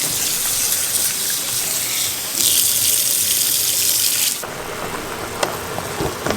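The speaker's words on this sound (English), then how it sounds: "So when I throw out the water, then I will now add the fresh water in it." Fresh water gushes from a tap into a cooking pot while an Egusi soup is being made, a loud steady pour that swells midway, then drops to a lighter trickle with faint clinks.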